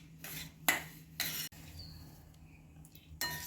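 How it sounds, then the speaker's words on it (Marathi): Semolina is being roasted and stirred in a pan on low heat, with a few soft scraping strokes of a spoon against the pan separated by quiet gaps. "तर मंद आचेवरच आपल्याला हा रवा भाजून घ्यायचा आहे।"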